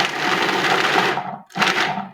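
Blender grinding horseradish for sauce, a loud, steady whirring roar that cuts out briefly and starts again for a short burst.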